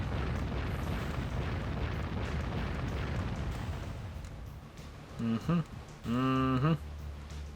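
Naval shells pound a villa in the Warship Gunner 2 video game, making a rumbling wash of explosions that fades after a few seconds, followed by someone talking.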